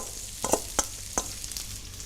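Onions frying in a pan for Maltese rabbit stew, a steady soft sizzle punctuated by a few sharp clicks of a utensil stirring, close and moderately quiet with no speech.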